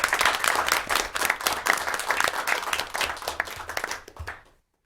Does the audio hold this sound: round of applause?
yes